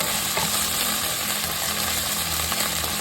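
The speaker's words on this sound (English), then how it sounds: "Let's add that garlic in. Alright. Stir." Garlic stir-fried in a pan for ampalaya con carne, a bitter melon and beef dish. A steady, dense sizzle and frying hiss runs throughout with light stirring scrapes and no voices.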